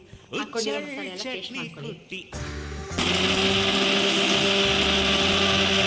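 A mixer grinder blends garlic, pepper and tamarind into a paste for a Karnataka village-style spicy dish. Someone talks briefly, then the motor starts with a loud, steady whirring whine that holds to the end.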